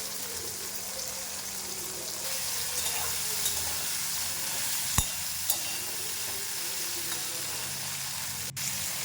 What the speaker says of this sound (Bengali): চিংড়ি মাছটা এবার ভেজে নিচ্ছি